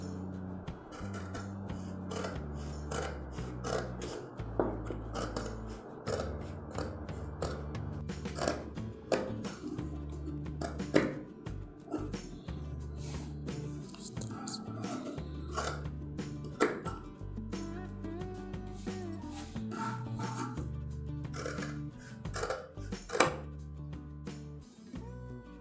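Scissors snip through shirt fabric along a marked collar pattern, producing quiet, irregular clicks and crisp cutting sounds over a soft background, with no talking.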